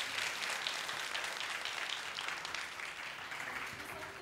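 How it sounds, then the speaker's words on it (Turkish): Television studio audience applauding, a dense, even patter of many hands held steadily for a few seconds, somewhat distant and soft. "Alkışlar susmasın gelene kadar."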